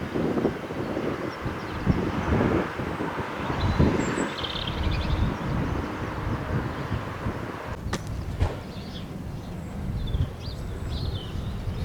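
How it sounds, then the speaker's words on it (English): Strong coastal wind at Boscastle, Cornwall buffets the microphone in heavy low rumbling gusts, broken by a few faint clicks. "It's really windy, really windy."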